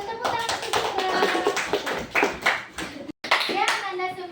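Classroom of students clapping for a classmate after a lesson on Earth's rotation, a lively patter of hands with children's voices chattering over it and a brief dropout near the end.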